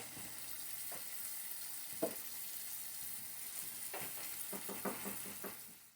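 Flour and butter cook together into a roux, giving a soft, steady sizzle with a few scraping stirs of a utensil against the pan, fairly quiet and close.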